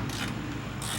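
Quiet, brief ratcheting from a small wrench loosening the oil drain plug on a 2JZ engine during a teardown, a short run of faint clicks over steady background noise.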